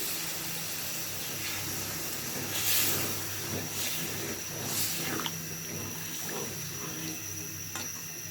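Steady broadband sizzle and hiss from a hot pan as water is poured onto frying masala for a Bengali katla fish do-pyaza, continuous and fairly loud with brief bursts of sharper spitting.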